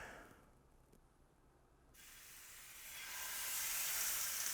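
A sous vide ribeye steak goes into a hot pan and sears, starting as a faint hiss that swells into a loud, steady sizzle.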